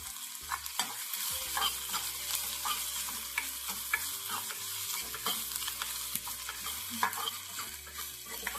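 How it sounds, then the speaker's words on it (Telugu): Steady crackling sizzle of mustard seeds, cumin and crushed garlic frying in hot oil, with occasional stirring scrapes, close and continuous. "ఆవాలు జీలకర్ర వేగే సమయంలోనే మనకి ఒక నాలుగు వెల్లుల్లి రెమ్మల్ని దంచుకొని ఇలా ఎందులోనే వేసుకోవాలి"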